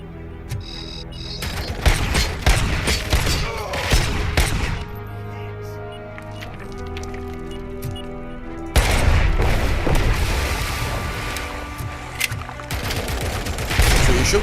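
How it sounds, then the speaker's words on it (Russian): Enemy machine gun fire in RoboCop: Rogue City, long dense volleys of rapid shots with booming impacts, breaking off briefly in the middle before a louder, closer barrage resumes. "Еще кто-то сел на этот пулемет."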